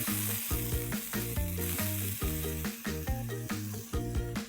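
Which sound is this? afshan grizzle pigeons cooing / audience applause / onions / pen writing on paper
onions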